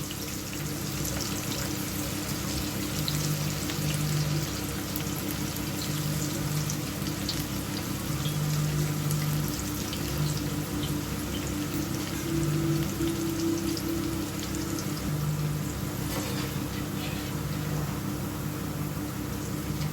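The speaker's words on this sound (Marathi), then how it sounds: "अलग सुटक असं सोडून घेतलं ना कारलं एकदम छानपैकी फ्राय होतं" Slices of bitter gourd frying in oil make a continuous, even sizzle and bubbling hiss held at a steady level for the whole stretch, with a faint low hum underneath.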